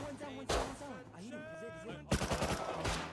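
Bursts of gunfire in a multiplayer shooter video game, a couple of sharp volleys with rapid repeated shots, heard under a player's voice calling out to teammates.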